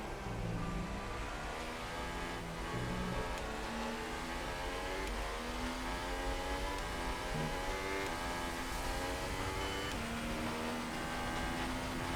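Race car engine from the F1 2018 racing game, a continuous high, buzzing whine with gear-change pitch steps, loud and steady throughout with no talking.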